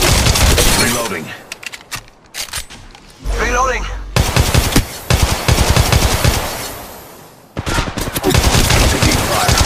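Rapid bursts of automatic gunfire from an Apex Legends Mobile firefight, loud and close, with repeated volleys separated by brief lulls and a short swooshing sweep in the middle.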